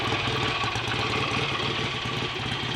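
A freshly rebuilt BSA A65 Lightning motorcycle engine running steadily close by, with an even, rapid rhythmic throb at a moderate level and no talk.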